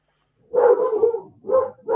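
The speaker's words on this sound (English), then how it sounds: "Can you guys hear my dogs?" Household dogs barking close by, one long rough bark followed by two shorter ones in a quick run, loud and with no voices over them.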